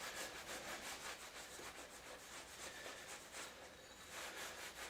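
A Klingspor Sandflex abrasive block rubs light corrosion off a metal disc, giving a steady, close scratchy scrubbing with repeated back-and-forth strokes and no talking.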